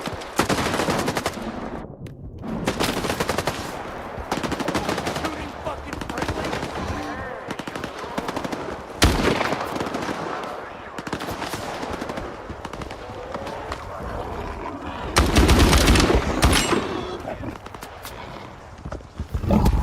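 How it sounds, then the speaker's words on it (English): Sustained machine-gun bursts and scattered shots rattle loudly throughout as a boar is fired upon in S.T.A.L.K.E.R. 2: Heart of Chornobyl, with a heavy blast near the end and a voice talking intermittently over the shooting. "Oh, they're shooting a boar."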